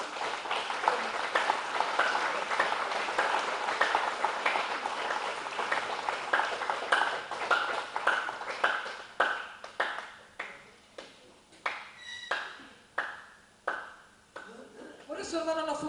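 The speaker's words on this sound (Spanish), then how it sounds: "Denle un aplauso al Señor." A church congregation applauds in a sustained wave of clapping that thins into scattered, separate claps before fading, with a voice speaking under it.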